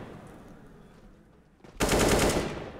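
Burst of automatic gunfire in Counter-Strike on the Dust 2 map during a Luminosity vs G2 Esports match, a loud, dense rattle of rapid shots erupting after a quiet stretch and sustained to the end.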